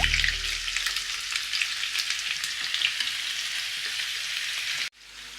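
Mutton pieces sizzling in hot oil with bay leaves and ginger-garlic paste, a loud continuous crackling fry with occasional stirring scrapes, cutting off briefly near the end before resuming.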